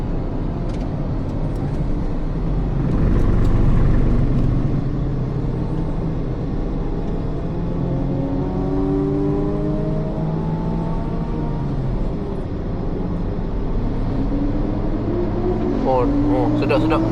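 A V6 car engine running at Sepang circuit, heard from inside as a passenger: a loud, steady rumble with rising and falling engine tones as it revs and shifts, continuous throughout.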